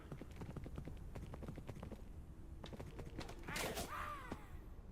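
Video-game horse hooves clip-clop in a fast, steady rhythm close up, followed by a brief burst of other game noise.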